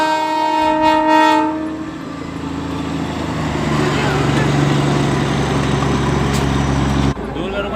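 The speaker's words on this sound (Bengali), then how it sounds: "এটা ডিজেল ইঞ্জিন।" A diesel train engine near a crossing blasts a loud, sustained horn, then rumbles heavily past at close range for several seconds before the roar abruptly drops away.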